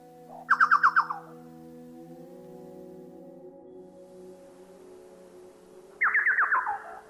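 A chucao calling in a Patagonian forest: two loud, close bursts of rapid repeated notes, one at the start and one near the end, separated by a quiet stretch of low steady background hum.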